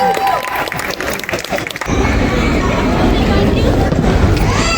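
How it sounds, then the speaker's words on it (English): A crowd at a Dasara celebration event breaks into loud, sustained applause with some cheering for a prize winner, following a short stretch of mixed voices and noise. "Hey, clap, clap, clap."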